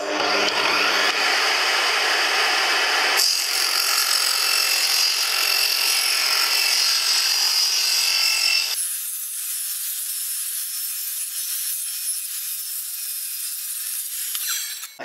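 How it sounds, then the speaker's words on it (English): A chop saw cutting wooden wall cladding for a camper van conversion gives a loud, steady, close whine that rises in pitch partway through and then settles into a thinner high tone until it winds down at the end. "after we've cut this out with the chop saw"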